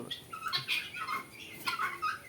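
Chickens on a farm give several short clucking and squawking calls in quick succession, close and clear with no talking.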